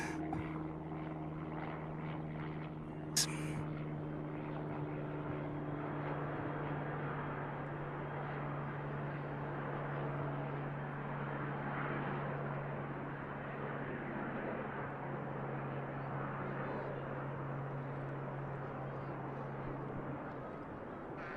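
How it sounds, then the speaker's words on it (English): A business jet takes off at Manchester Airport, heard as a steady, far-off engine roar with a low drone that holds throughout, plus one brief sharp click near the start. "the BizJet already airborne"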